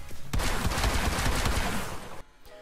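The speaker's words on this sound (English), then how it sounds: "when you press your left mouse button, or whatever your fire button is, it will shoot off a laser that will damage enemies" Warframe amp firing a laser in a video game, a loud, dense, continuous crackling burst lasting about two seconds before cutting off abruptly.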